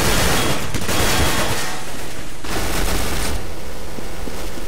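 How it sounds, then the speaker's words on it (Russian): Rapid bursts of gunfire from a competitive shooter video game match, a dense, loud fusillade running throughout with brief dips between volleys. "Я даже тут слышу, как он стреляет."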